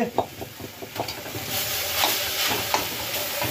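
Banana flower with spices sizzles and fries in a hot wok, with scraping stirs and light clattering strokes repeating at close range.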